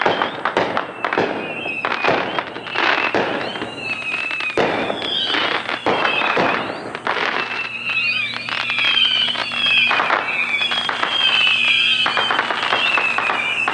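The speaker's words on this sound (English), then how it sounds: "that's all the fireworks that we are gonna catch tonight" Fourth of July fireworks go off in a dense run of sharp bangs and crackling bursts, with whistling streaks threaded through and a steady crackle building toward the end.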